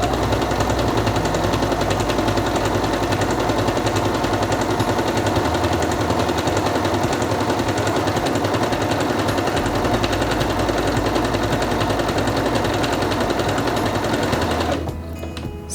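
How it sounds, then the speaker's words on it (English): A Singer Quantum Stylist 9960 sewing machine stitches fabric at a 1.8 stitch length. A steady, loud, fast needle rattle runs without a break for about fifteen seconds, then winds down abruptly at the end, with no voices. "Put the fabric under the presser foot, lower it, and begin sewing."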